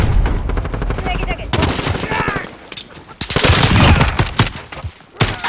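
Rapid automatic gunfire and bursts of shots roar continuously in a Modern Warfare match, loud and close, with brief voice chatter mixed in underneath.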